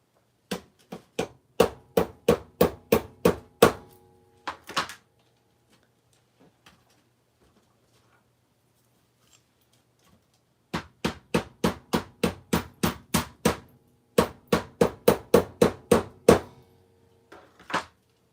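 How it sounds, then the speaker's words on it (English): Someone hammers a stubborn part down into place, with quick bursts of sharp, evenly spaced metallic blows about eight to ten strikes long. A pause of several seconds separates the bursts, and the blows ring loud and close. "I'm hammering this thing down."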